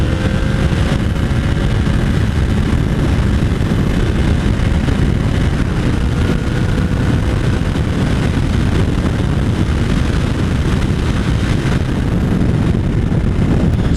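A 2019 Yamaha R1 sportbike underway, its engine drone buried in heavy, constant wind roar buffeting the microphone, loud and unbroken for the whole stretch.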